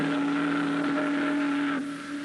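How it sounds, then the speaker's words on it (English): A boat's steam whistle gives one long, loud, steady blast that holds for about two seconds before cutting off, with no voices around it. "That's a boat whistle."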